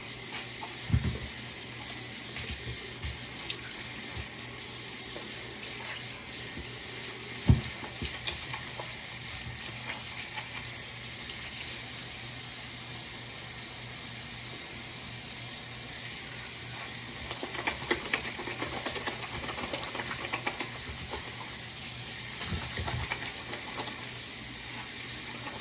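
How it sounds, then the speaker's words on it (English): Tap water runs steadily into a sink while a pair of Jordan 2/3 sneaker laces is rinsed, a constant hiss with occasional splashes and knocks, no talking. "you're gonna rinse them off"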